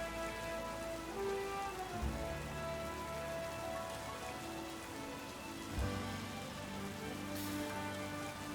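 Steady rain falling on a surface, a dense even patter that runs alone throughout beneath a soft tonal bed, with two brief low thumps along the way.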